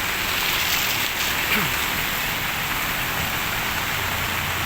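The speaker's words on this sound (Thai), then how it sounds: "ฝนตกทั่วไทยนะครับ ที่จังหวัดสมุทรปราการตกทั้งคืนนะครับผม" Morning rain falling steadily in Samut Prakan, Thailand, after a night of rain, a dense, even hiss of drops on surfaces nearby with faint traffic underneath and no speech.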